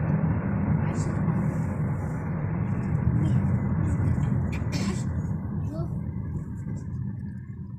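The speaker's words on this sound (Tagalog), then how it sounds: "Traffic." Road traffic in Riyadh, a continuous low rumble of passing cars and buses heard from nearby, fairly quiet, with voices talking over it.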